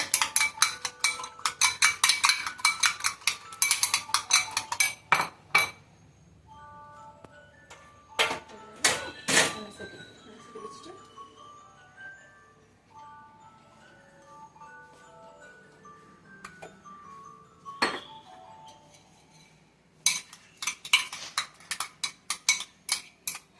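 Eggs are beaten in a bowl for an omelette with rapid, sharp clicking strokes in quick bursts, pausing between rounds of whisking, with a few louder knocks and no talk.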